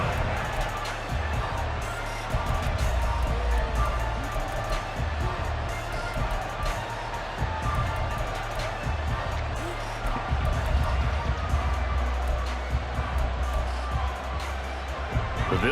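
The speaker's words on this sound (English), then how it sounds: "The crowd may be losing just a little bit of the edge after back-to-back punts." Stadium crowd ambience in a Madden football video game with the Panthers and the Bills, a steady, dense roar and murmur that holds at a moderate level for the whole stretch without clear cheers or peaks.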